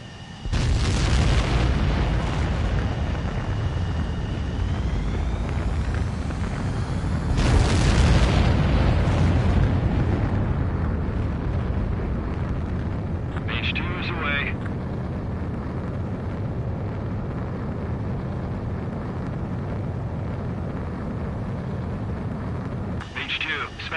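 A fighter jet in a video game roars through its takeoff sequence, a loud sustained engine rush with a swelling boom partway through, while radio-style voices talk over it.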